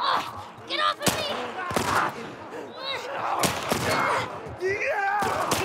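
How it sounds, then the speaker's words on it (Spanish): Gunfire in The Last of Us Part 1: several sharp, loud broadband shots spaced irregularly, mixed with game effects and an excited voice talking over the action. "Vamos a agarrarnos a tiros."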